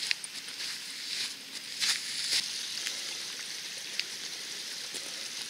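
A small stream flowing along a hiking trail in the Morvan, a soft continuous trickle and babble of water with faint splashy patters, quiet and steady throughout.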